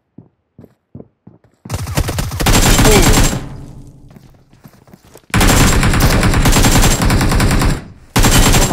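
Rapid automatic gunfire in a Dragon Ball Z event of a shooter video game, a few sparse shots and then long loud sustained bursts of fire separated by short pauses.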